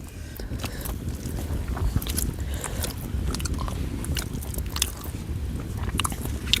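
Someone chews a mouthful of tribal worm curry mixed with black rice, a continuous close, moist crunching and smacking with irregular bites and soft clicks throughout, no talking.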